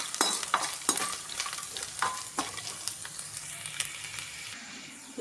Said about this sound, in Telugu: మెత్తగా దంచుకొని దీన్ని కూడా మంచిగా ఫ్రై చేసేసుకోవాలి